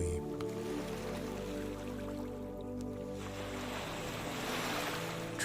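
Gentle ocean waves wash steadily in a soft, continuous surf, with a faint breezy hiss and a slight swell toward the end, heard alone with no voices.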